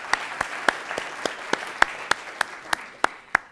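A business competition audience claps in a thin, evenly spaced series of distinct sharp claps, about three per second, sounding like a small sparse group rather than full applause.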